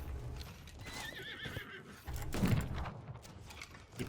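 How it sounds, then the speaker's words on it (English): A horse whinnies in the video game Conqueror's Blade, a wavering neigh near the middle followed by a heavier burst, set against battle noise and clopping hooves. "Horse."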